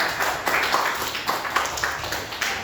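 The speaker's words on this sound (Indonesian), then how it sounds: "Berikan tepuk tangan untuk kelompok 3" A small group in a classroom claps briefly for a presenting student group, light and scattered, with a few sharper claps standing out over a soft hiss.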